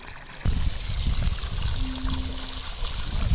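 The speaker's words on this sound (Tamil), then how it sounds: "இது மாதிரி எல்லா இடத்துலையும் தண்ணி போயிட்டுருக்கு." Water runs through channels on walled coconut and mango farmland near Mamallapuram, a steady close trickling rush with low gurgles underneath and a faint brief tone partway through, no talk.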